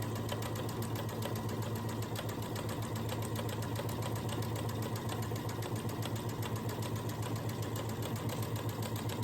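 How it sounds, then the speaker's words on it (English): Steady, continuous whir of a sewing machine stitching fabric along a quarter-inch seam, running evenly and close by for the whole stretch with no talking. "I'm going to start sewing"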